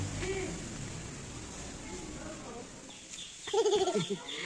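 Chickens cluck and call near a village coop, faint at first, then a louder burst of close clucking near the end, with people talking in the background.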